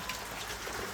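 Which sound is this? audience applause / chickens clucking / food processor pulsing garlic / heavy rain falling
heavy rain falling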